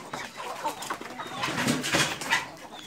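Several hungry chickens cluck and chatter together close by at feeding time, a busy overlapping flurry of short calls with other birds mixed in.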